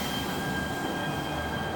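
A train passing in front of an apartment in Santa Monica: a continuous, fairly loud rumble with a faint high, steady whine over it, heard alone without voices.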